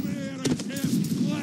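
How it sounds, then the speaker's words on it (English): A sharp musket shot cracks in a Battle of Waterloo scenario in Mount & Blade, a single close burst over game background noise. "it's a gunshot"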